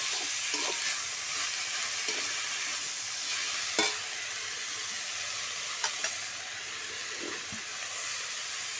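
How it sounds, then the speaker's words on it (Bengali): Spinach stirred into a fried spice paste in a pan: a continuous soft sizzle with scattered clicks and scrapes of a spoon against the pan, no voices. "এবার পালং শাকটা দিয়ে দিচ্ছি। দিয়ে ভালো করে একটু নাড়িয়ে নিচ্ছি।"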